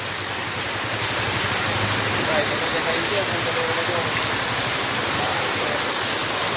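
Heavy rain falling in a market area, a dense, unbroken roar of rainfall that stays steady and loud throughout.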